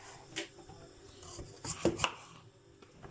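Soft, irregular knife chops through potatoes on a cutting board, a few quick cuts clustered together with light kitchen clatter, fairly quiet.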